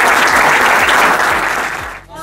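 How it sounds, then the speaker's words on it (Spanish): Loud, dense audience applause at an office inauguration for a supporters' club, many hands clapping close and sustained before it drops away abruptly near the end. "un gran aplauso para todos ustedes"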